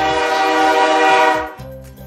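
A train horn blasts loud and close in one long, sustained tone, then cuts off, leaving the rumble of the train rolling along the tracks.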